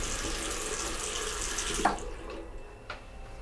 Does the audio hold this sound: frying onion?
no